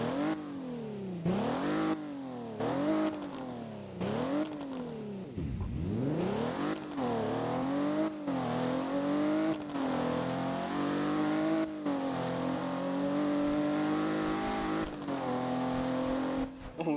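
A 2017 Ford GT in the Driving Empire racing game revs hard through repeated rising and falling sweeps, then settles into a steady high drone, loud and continuous throughout with faint voice in the background.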